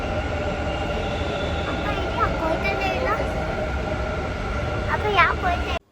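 A metro train running, a loud, steady rumble of wheels on rails with a few brief squeals and rising tones, before cutting off abruptly near the end.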